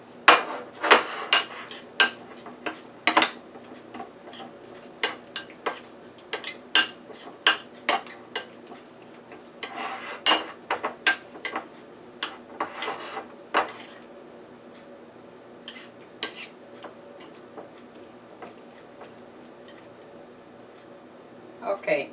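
Crab meat filling is stirred in a bowl, a utensil knocking and clinking against the sides in quick irregular taps that thin out toward the end, close and fairly quiet.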